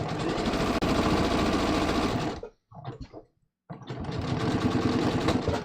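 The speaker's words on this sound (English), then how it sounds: "I'm going to stitch right to the piping" A sewing machine runs steadily as it stitches a neckline up to the piping, a loud close whirring that stops briefly with a few soft clicks before starting again.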